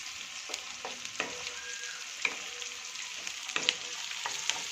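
Vegetables and paneer fry on high flame in a pan for a dhaba-style green masala dish, giving a steady close sizzle with occasional clinks and stirring scrapes, and no talking.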